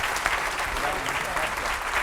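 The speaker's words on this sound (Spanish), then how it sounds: "Un fuerte aplauso para Mauricio Rojas y Roberto Ampuero." An audience at a book launch keeps up a steady, dense round of applause throughout, the clapping close and even with no pauses.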